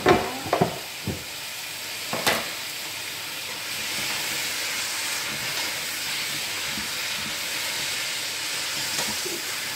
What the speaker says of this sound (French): on va ajouter les champignons